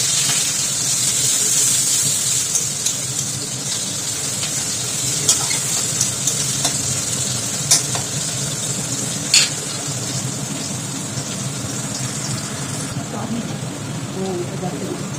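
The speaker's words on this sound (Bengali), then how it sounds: "এই দেখুন কুচানো পেঁয়াজ এর মধ্যে দিয়ে দেবো, দিয়ে একটু ভালো করে ভেজে নেব" Chopped onions fry in hot oil with cumin seeds in a pan, a steady bright sizzling hiss that runs the whole time, broken by occasional sharp pops and crackles.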